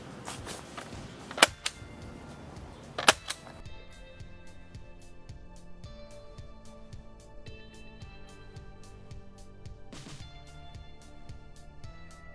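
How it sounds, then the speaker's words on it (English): A Bug-A-Salt salt gun firing at flies, two sharp snapping shots a moment apart with a third faint one later, heard close over a low steady background hum with a soft rhythmic ticking. "I'm gonna roll in some video here of me shooting some flies."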